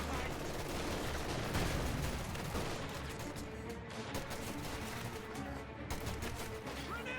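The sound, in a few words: M1911 handgun fire from medics, Company of Heroes 2 video game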